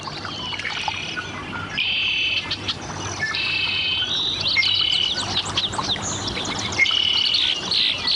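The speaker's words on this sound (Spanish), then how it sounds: "Un petirrojo americano acapara comida para su nidada." Birdsong along a muddy riverbank, with repeated clear whistled calls and chirps from an American robin over a steady backdrop of insect and frog chorus, moderately near and no talking.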